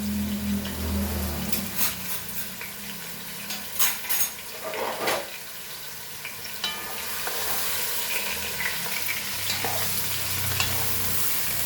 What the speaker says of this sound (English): And we'll mix it all nicely.